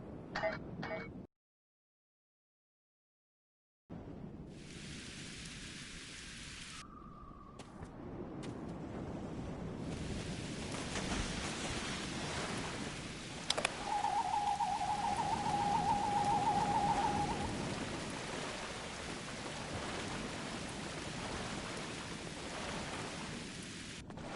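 Rain falls in a Star Trek Online game scene, a steady soft hiss of rainfall after a brief silent gap, with faint rumbles and a short electronic tone mid-way.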